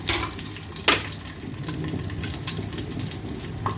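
Garlic and tempering spices fry in hot oil with a close, continuous crackling sizzle, broken by a couple of sharper pops and spits.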